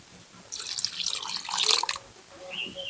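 A cup of water pours into rice and palm-fruit pitha batter, a steady splashing stream that swells and then tapers off, with a faint trickle afterward.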